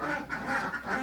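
Many ducks quacking together on a duck farm of about fifty birds, a dense, continuous chorus of overlapping calls close by with no talk.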